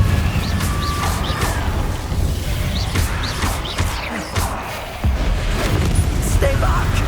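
Confringo fire spell blasts in Hogwarts Legacy: a dense, booming game soundscape with repeated crackling impacts and explosive bursts, loud and continuous.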